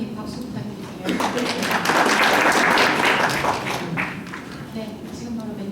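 A forum audience applauds to welcome a mentor, with the clapping swelling after a second, peaking loud and dense through the middle, then thinning out while voices continue underneath.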